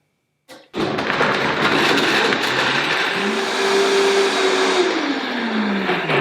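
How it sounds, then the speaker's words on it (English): A blender blending dates starts with a thump and roars continuously at high speed, a loud steady whir with a shifting motor pitch. "So all we need to do now is blend."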